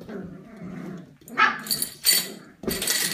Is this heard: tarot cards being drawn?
no